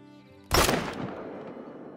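A single sharp rifle shot in the hunting game theHunter: Call of the Wild, loud and close after a quiet moment, with a long rolling echo that fades away.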